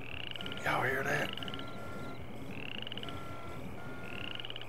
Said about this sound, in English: Bullfrogs, crickets, lightning bugs, oh my.